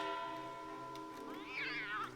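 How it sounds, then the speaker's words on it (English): Several cats meow in the Anno 1800 city-builder game, a rising, wavering yowl near the end over a steady tonal hum of background game music. "Oh my god, those cats."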